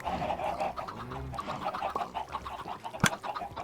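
Chickens in the video game Minecraft, soft clucking and squawky fowl calls over a busy game background, with a single sharp click near the end and no talking.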